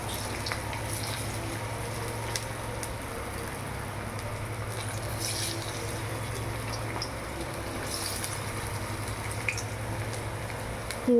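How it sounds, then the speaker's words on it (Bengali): Lentil cakes (dhoka) fry in hot white oil in a karai, a low, steady bubbling sizzle with a few faint clicks, continuous and without speech. "তেলটা গরম হয়ে গেছে। এবার আমি ধোকাগুলো ভেজে নেব।"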